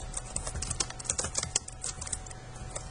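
Keys on a computer keyboard are tapped in quick, uneven bursts, close and fairly quiet, with no voices.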